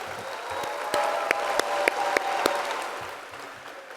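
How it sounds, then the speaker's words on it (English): A conference audience at a Key Club district convention opening session applauds: a steady wash of crowd clapping with a few sharp, louder nearby claps standing out, then fading toward the end. "Let's give a big round of applause to welcome these newest members of our Key Club family."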